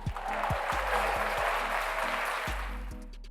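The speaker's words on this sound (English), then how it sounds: "Let's give ourselves a round of applause first" An audience at a motivational gathering breaks into sustained applause, a dense wash of clapping with deep thumps throughout that fades slightly toward the end.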